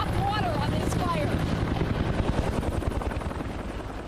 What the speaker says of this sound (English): This helicopter is about to drop water on this fire.